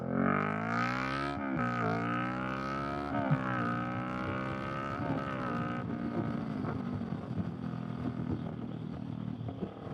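Kawasaki Vulcan S motorcycle engine revving up loudly and accelerating in sixth gear, rising harmonic drone with several throttle surges and gear-like dips, close and steady under wind rush with no talk.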